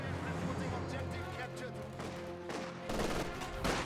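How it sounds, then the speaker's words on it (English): M242 autocannon fire in the Company of Heroes 2 battle game, a dense rattle of bursts and shots that swells louder toward the end, heard under steady commentary. "M242 firing away over here"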